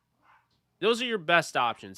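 A dog barks in the background: a faint yip at first, then three sharp, close barks in quick succession while someone talks.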